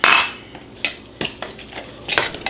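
Diced dill pickle and white onion mixed into a thick sauce, giving several separate clinks and scrapes of a utensil against a bowl in quick bursts, close and moderately loud.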